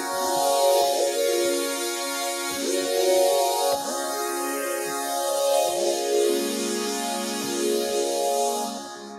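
A sustained synth pad from the DX Analog patch on a Yamaha Reface DX FM synthesizer, rich and layered with slowly sweeping filter movement, playing steadily and alone with soft swells and no voices.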